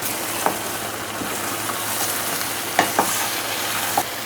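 Banana, rock sugar and sugarcane are stirred into jaggery in a pan for a temple prasadam, giving a continuous bubbling hiss with a few soft scrapes of the spoon.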